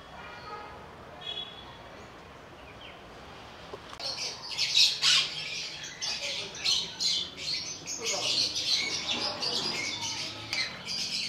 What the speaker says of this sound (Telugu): ఆ బర్డ్ చూడండి, పేరెంటో తెలియదు కానీ మస్తు కలర్ఫుల్గా చూడండి.